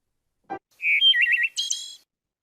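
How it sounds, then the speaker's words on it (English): A played recording of a bird song fragment: a short low note, then a clear whistled phrase with quick trills and a higher buzzy ending, crisp and alone against silence. "I'm going to play a fragment of the same bird song"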